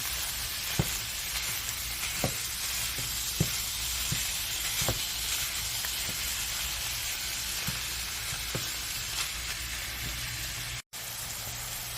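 Lean ground beef or turkey cooking in a pan, giving a steady, close sizzle with faint occasional stirring clicks and scrapes and no talk.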